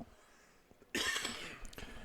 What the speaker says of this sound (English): You ever notice you don't cough all day